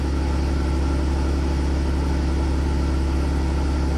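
Nissan Xterra engine idling rich with a fuel-trim fault, a steady loud mid-pitched rumble with constant low harmonics and no change in speed throughout, no voices over it.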